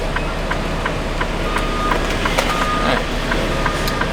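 A truck's reversing alarm beeps in a steady, evenly spaced series while the rig backs in toward a trailer, with a constant engine rumble underneath.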